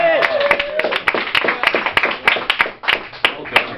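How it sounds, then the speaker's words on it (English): Audience applause breaking out as a speaker stops talking, with dense, near clapping that rises and persists, sharp hand claps standing out against the crowd and a brief vocal tone at the start. "when John stops talking is when they're the happiest and they applaud"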